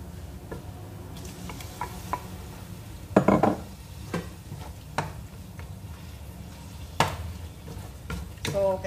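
Tomatoes sizzling softly in a pan of sautéed rice, with scattered clinks and scrapes of a utensil stirring against the pan; quiet and close, and a person talks over the cooking.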